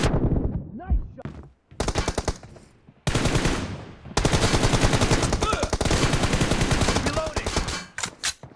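Rapid bursts of automatic gunfire in a one-versus-one video game match, loud and close, with pauses between volleys and a few sharp single shots near the end; a voice calls out briefly among the shots.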